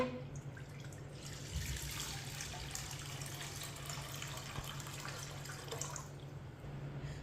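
Milk, about a kilogram, pouring into a cooking pot for a sharbat recipe, a steady liquid rush with splashing that runs continuously for several seconds, close and fairly quiet, with no talking.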